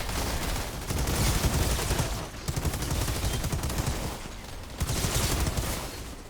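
Sustained blind fire from guns in the video game Outriders, a loud, dense, continuous rattle of automatic shots that swells and dips in waves with no talking over it.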